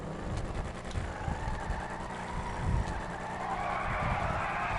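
A stock car accelerating hard down a drag strip, its engine roaring steadily at close range with rising intensity and no talk over it.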